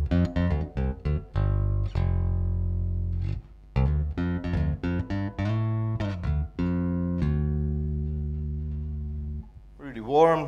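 A warm, round electric bass on its neck pickup with tone fully up plays a run of plucked notes, some short and some sustained, alone and fairly close.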